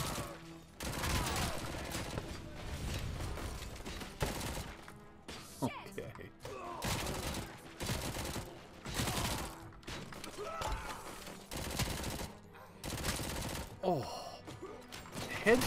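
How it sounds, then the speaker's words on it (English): Loud bursts of gunfire in RoboCop: Rogue City, with repeated clusters of sharp shots, crashes and impacts spread across the stretch, mixed with game effects and occasional voices. "Shots in this are awesome."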